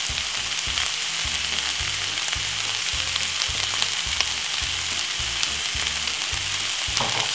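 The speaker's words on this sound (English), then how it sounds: "So basically what you're gonna do is you're gonna brown up your meat." About half a kilo of minced meat browning in a frying pan, a loud, continuous close sizzle with soft rhythmic stirring and scraping underneath, no voices.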